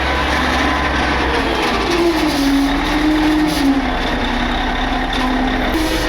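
A giant mining truck's heavy engine roars and strains nearby, a loud steady rumble with a wavering tonal whine rising and falling.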